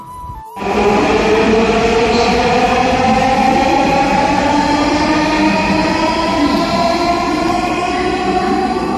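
Dhaka metro rail train running between Motijheel and Uttara, a loud steady interior rumble with rising motor whine that swells in after a brief quieter start and holds continuously.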